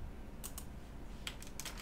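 Typing on a computer keyboard to enter a feed URL, two short clusters of light key clicks, close and fairly quiet, over a faint steady hum.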